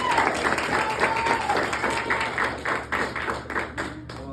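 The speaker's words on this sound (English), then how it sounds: "Mr. Rojas, give me a round of applause." A crowd claps a round of applause for a youth speaker, dense and steady for about four seconds and fading slightly near the end, with no talking over it.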